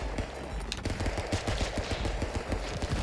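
Rapid, loud gunshots in the 2D brawler Stick Fight: The Game, a dense run of sharp cracks firing in quick succession for a few seconds, no voices.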